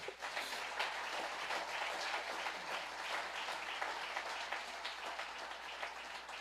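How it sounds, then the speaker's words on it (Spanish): Church congregation applauding during a sermon, a steady, dense wash of clapping from a large crowd that holds evenly throughout, fairly distant and soft with no voices over it. "Dale un aplauso fuerte al Señor"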